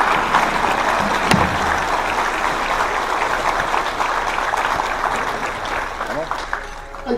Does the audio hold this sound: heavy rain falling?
no